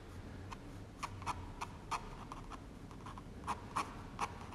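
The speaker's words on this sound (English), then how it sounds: "Really sort of loose pen strokes" Loose pen strokes sketching a building for a watercolour make faint, close scratchy scribbles on paper, coming in quick irregular taps and short strokes against a quiet background.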